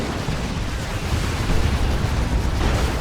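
Battle explosions in the real-time strategy game Dawn of War 2: Retribution rumble as a dense, continuous roar of booms and blasts during a 1v1 match between Imperial Guard and Tyranid forces, heavy and low-pitched without voices.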